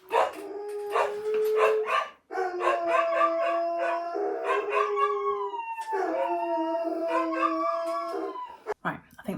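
Several dogs howl together in a loud, sustained chorus with wavering tones, breaking off briefly and starting again, with a few barks and yips mixed in nearby.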